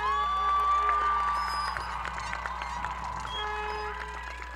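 Graduates at the Community College of Aurora 2022 commencement turn to cheer and applaud family and supporters, with whoops, whistles and scattered clapping from a large crowd.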